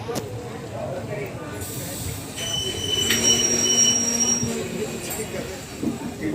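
A Rewa–Jabalpur shuttle passenger train rolls past close by at a station, its wheels squealing high and steady over a rumbling rail roar, with people talking in the background throughout.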